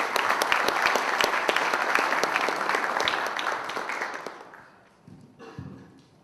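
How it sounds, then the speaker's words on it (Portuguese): Audience applause for a keynote speaker at a Python conference, dense clapping with some sharp individual claps standing out, fading away over the last couple of seconds into quiet room noise with a few stray sounds. "uma salva de palmas para ele"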